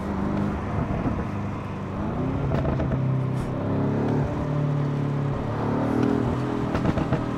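A 2019 BMW M5 F90 Competition accelerating in Sport Plus with the exhaust open, heard from inside as a loud, steady engine drone that rises in pitch, with no talk over it.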